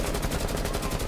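Rapid automatic gunfire from an AK-12 rifle in a shooter video game, a quick burst of repeated shots lasting about a second, loud and close.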